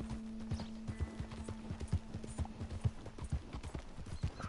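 Horse hooves clip-clop at a steady trot in Red Dead Redemption 2, rhythmic and close, with a low tonal hum in the background and no talk.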